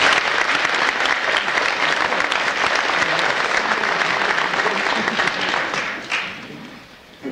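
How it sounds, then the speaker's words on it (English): An audience at a 1995 DARE graduation ceremony claps for the graduates, a dense, steady round of applause that holds for several seconds, then thins out and fades near the end. "I think they need a round of applause"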